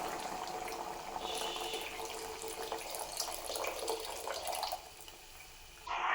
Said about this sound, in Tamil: இந்த டைமில் கரைச்சி வச்ச புளி தண்ணி சேர்த்துக்கலாம்